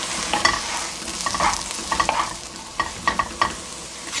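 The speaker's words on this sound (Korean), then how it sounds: "이대로 센 불에서요 수분을 날려주면서 볶는데요" King oyster mushrooms stir-frying over high heat in a pan, giving a continuous sizzle with repeated scraping and stirring clatters from a spatula, close and fairly loud, with no talking.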